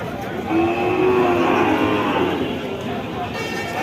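A black Sahiwal bull calf moos once in a drawn-out, fairly loud call, with busy crowd noise and chatter from a livestock market around it.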